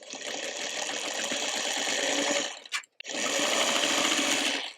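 A sewing machine runs in two fast, continuous bursts while stitching quilt block pieces, stopping briefly in the middle before starting again, close and loud.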